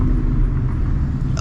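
A 2014 Ford Mustang GT V8 idles at low RPM, a close, loud, steady deep rumble that holds without a break for over a second, with no voices.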